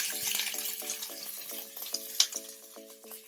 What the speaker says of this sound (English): The oil is pretty hot, so we don't wait any more time before putting the onions in.